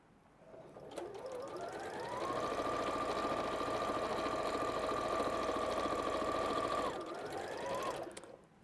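A sewing machine stitches fabric blocks together in one steady, fast mechanical whir that spins up, holds for several seconds, then slows and stops, close and alone.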